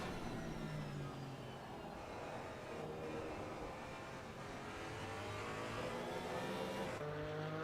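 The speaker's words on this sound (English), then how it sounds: "You get a load of the diff whine." Porsche GT4 race car in Assetto Corsa Competizione, engine roaring steadily with a high differential whine riding over it, pitch rising and falling through gear changes, continuous and loud with no talking.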